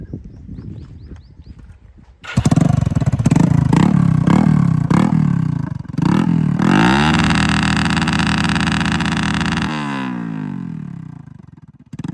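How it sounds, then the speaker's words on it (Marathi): A Hero Splendor motorcycle with a modified metal pipe silencer idles with a rhythmic, chugging exhaust, then is revved hard into a loud, sustained roar that drops back toward idle, all close by and with no speech. "तर बघूया किती आवाज येतो आपल्या गाडीचा"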